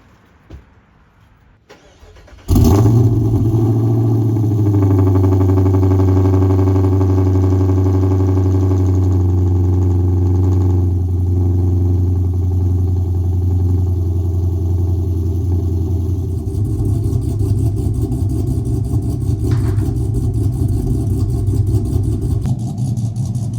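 A V8 police car engine cold-starts after a moment of quiet, catching with a loud burst and settling into a steady, rumbling high idle that holds close and strong, dropping slightly in pitch partway through.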